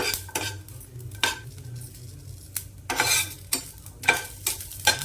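Garlic cloves and onion roasting in a pan as a spoon scrapes and stirs in repeated bursts, each stroke a short rasping clatter over a faint, low sizzle.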